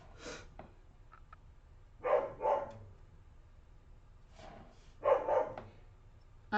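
Dogs bark outside while children play, heard as a few soft, muffled barks in pairs at a distance, with faint thumps and scattered noise between them.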